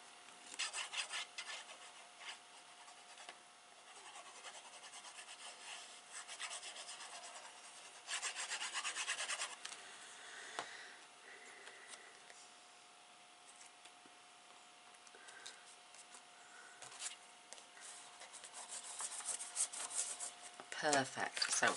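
Hands rub the paper flaps of a handmade exploding gift box, giving a soft, steady papery rubbing and scraping that swells and fades in bursts, heard close and quiet.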